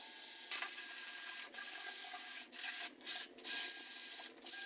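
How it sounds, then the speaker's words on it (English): Pallet wood boards for a bench are sanded with a power sander, a close steady hiss broken by a few short pauses as the tool lifts and moves. "now that I sanded everything with the bottom"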